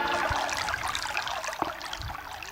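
Water running into a pot or bucket, a continuous close splashing gush with bubbly churning and a few thumps, loud and steady throughout with no talk.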